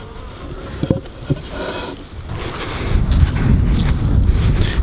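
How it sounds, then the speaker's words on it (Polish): Honeybees buzz at a hive during winter, a soft, close, wavering hum mixed with wind noise on the microphone and a few faint knocks. "I siedzą tam pszczoły."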